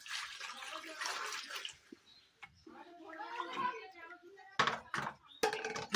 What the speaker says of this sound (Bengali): এই পরিষ্কার করার পরে পোকাগুলোকে ভালোভাবে ধুয়ে নিতে হবে